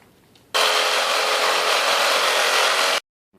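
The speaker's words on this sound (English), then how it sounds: "Metal cutter." A metal cutter slices through a 40 exhaust pipe for a Predator 212-powered motorcycle build, producing a loud, continuous, harsh grinding hiss of about two and a half seconds that stops abruptly.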